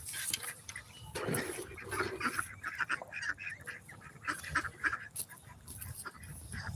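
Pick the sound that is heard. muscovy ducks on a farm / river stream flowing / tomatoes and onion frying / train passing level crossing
muscovy ducks on a farm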